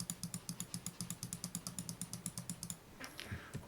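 Rapid, steady keystrokes on a computer keyboard during Photoshop work, close and fairly loud with a regular rhythm for most of the stretch, then a brief pause and a few softer shuffling sounds at the end; no one speaks.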